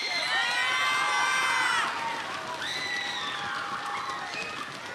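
Middle school orchestra holiday concert audience cheering loudly, with high shouts and whoops from children over crowd noise and light applause, the excitement peaking early and then settling into sustained cheering.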